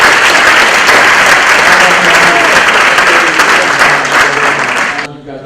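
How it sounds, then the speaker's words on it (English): A loud, sustained round of audience applause from a room full of people, dense clapping that holds steady for about five seconds before cutting off abruptly at the end. "how about a round of applause?"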